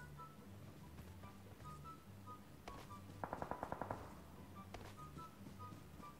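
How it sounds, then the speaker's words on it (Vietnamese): Bursts of rapid automatic gunfire from a distant firefight in PUBG Mobile, with a quick rattling volley near the middle and scattered single shots around it, all faint over a low hum of game ambience. "Lại có tiếng súng bên kia nữa"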